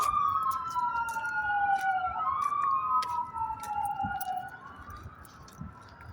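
A police car siren wails in sweeping rising and falling tones as it passes, fairly loud and steady over faint traffic noise, with no talking.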